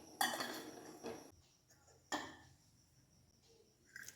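A pot of salted water with potatoes set to boil is covered with a lid, giving a sharp metallic clatter, a second clank about a second later, and a softer clink near the end, close and clear without talk.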